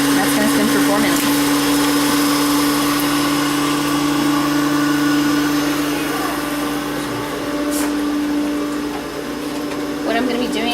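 Constant motorized whir of a small lab centrifuge spinning a blood sample, a steady hum close by that stays even throughout.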